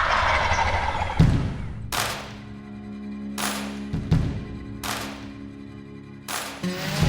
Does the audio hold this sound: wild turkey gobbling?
yes